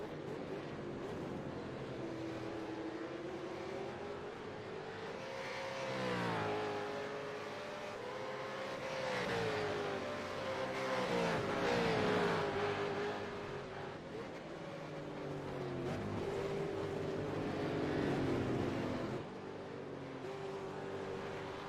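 V8 Supercars race cars at Sebring International Raceway, powering out of the Le Mans curve onto the Ullman straight, engines climbing and falling in pitch through gear changes as several cars roar past in succession.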